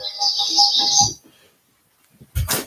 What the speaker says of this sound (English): That's my alarm to wake up from my nappy poo.